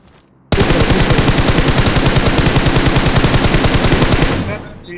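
Automatic gunfire rings out in the mobile battle-royale game BGMI as one loud, close, unbroken stream of rapid, evenly spaced shots lasting about four seconds before cutting off.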